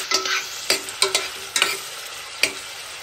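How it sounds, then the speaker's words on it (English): Green chilli and onion frying in a pan, an even crackling sizzle punctuated by about eight quick, sharp spatula strikes and scrapes at irregular intervals, close and without speech. "green chilli and onion. Now fry it for 2 minutes."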